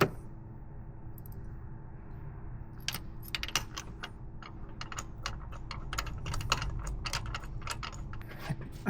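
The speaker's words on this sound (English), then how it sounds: "It's my favorite for torquing down spark plugs." A hand tool tightens spark plugs on a VW Beetle engine during a tune-up, making a quiet, close series of sharp metallic clicks and small clatters that grow more frequent toward the end.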